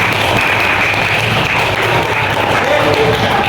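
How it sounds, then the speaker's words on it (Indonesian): Dense, steady applause from a grade 4 classroom of schoolchildren, with voices mixed into the clapping throughout. "Tepuk tangan untuk kelas 4."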